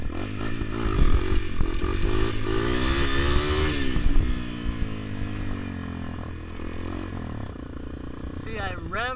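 A Honda CRF250L dirt bike engine revs up and climbs in pitch, then drops back and idles roughly, loud and close, with a brief rise again near the end.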